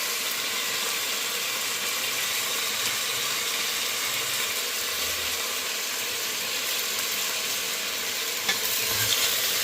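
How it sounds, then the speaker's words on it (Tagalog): Tinola chicken soup with daikon is stirred in a hot pot, giving a steady, dense sizzling and bubbling hiss that carries on evenly throughout, with a small clink near the end. "Now let's mix."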